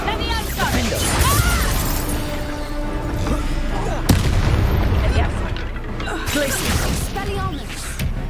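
A Bombarda explosion spell in Hogwarts Legacy amid a hectic fight, with booming blasts, cracks and a sharp crash near the middle over a dense layer of combat effects, while a voice talks throughout.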